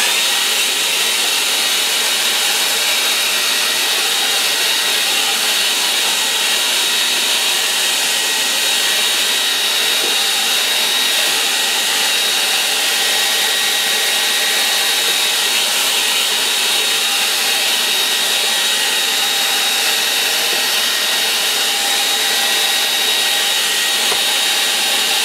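A hair dryer blows steadily over a watercolour painting, giving a loud, continuous rushing whir that holds at an even level for the whole stretch without pause or talk.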